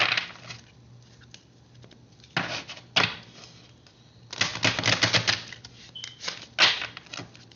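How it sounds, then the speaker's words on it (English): A deck of African Goddess Rising oracle cards being shuffled by hand, quick papery riffles and flicks in several uneven bursts separated by short quiet gaps, close and fairly soft. "I have never had this much difficulty shuffling."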